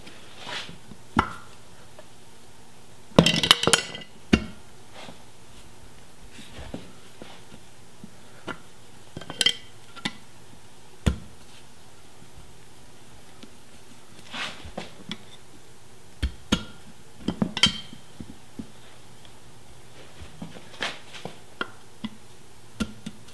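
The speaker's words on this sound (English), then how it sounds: "Now I just need to get the tire to fit in that lip. I'm going to use these screwdrivers." Screwdrivers prying a tire into the lip of a beadlock wheel, sparse metallic clicks and knocks with a few louder clattering bursts, fairly quiet and spaced irregularly.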